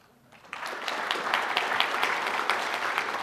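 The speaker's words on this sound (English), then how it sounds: "that'll be enough clapping for the moment" An audience at an opening ceremony breaks into clapping after a quiet moment, building quickly into steady, full applause that carries on to the end.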